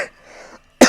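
A single sharp, close cough bursts out at the very end, after a moment of faint breathy noise, during play of the Roblox horror game Scary Elevator.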